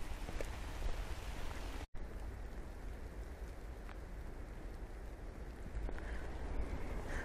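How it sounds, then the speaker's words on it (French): Rain falling steadily as a dense, continuous hiss and patter, with one brief dropout partway through and no voices. "il se remet à pleuvoir"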